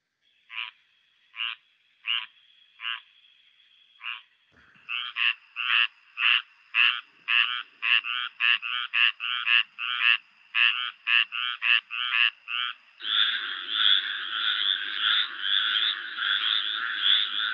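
Frog chorus from a North Carolina species, duck-like in tone: a single frog gives spaced calls, then others join in rapid overlapping croaks that build into a dense, continuous chorus, loud and close.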